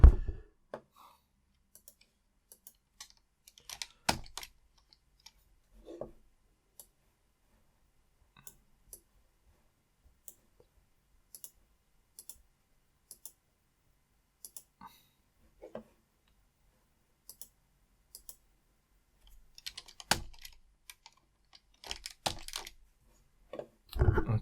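Computer keyboard keys are pressed in scattered sharp clicks, single taps and short quick bursts separated by silent gaps, with denser clusters near the start and end.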